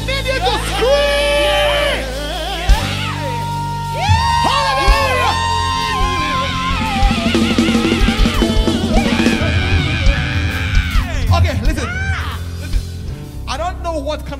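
A church crossover service congregation screams and shouts praise, a loud crowd roar of whoops and yells mixed with music and an amplified voice.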